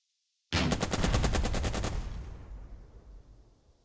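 A loud burst of rapid automatic gunfire from the war game Burden of Command, about a dozen fast shots in a row that then fade into a lingering echo.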